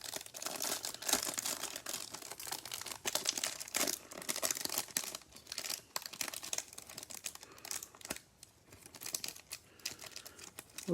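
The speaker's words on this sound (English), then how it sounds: "We'll say these cellophane packs are getting the best of me a little bit here." Cellophane wrappers on trading card packs are torn open and crumpled up close, giving a dense run of crinkling and tearing with sharp bursts and brief pauses.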